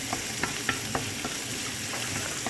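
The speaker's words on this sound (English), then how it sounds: "Then once the onion and the garlic start getting a little bit of color, I'll throw in the shrimp." Shrimp added to onion and garlic frying for fried rice: a dense, close sizzle with a string of soft regular stirring taps, steady in level and free of talk.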